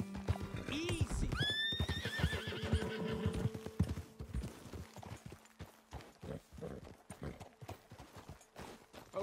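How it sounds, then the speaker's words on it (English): Horses in Red Dead Redemption 2 whinny loudly near the start, then hooves clip-clop in a steady galloping rhythm, with game sounds and a voice speaking over them. "Best leave the horses back a bit."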